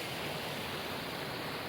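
A small forest waterfall in the Wyre Forest, swollen by recent rain, gives off a steady, broad rushing hiss, close and continuous with no voices over it.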